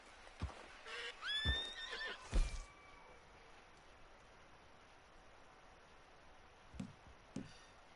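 A horse in Red Dead Redemption 2 lets out a clear, close whinny with a snort near the start, then quiet ambience follows with a couple of soft hoof knocks later on.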